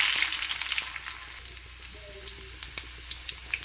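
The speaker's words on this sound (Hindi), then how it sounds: "पहले है ना मैं ज़ीरा डाल रही बघार में" Cumin and onion sizzling in hot oil for a baghar tempering, a steady close frying hiss with small pops and stirring clicks throughout, no voices.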